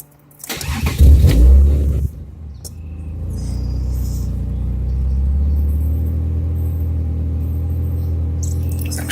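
A Mazda V6 K series engine with its throttle position sensor unplugged cranks for about a second and a half, catches, then settles into a steady, close idle rumble.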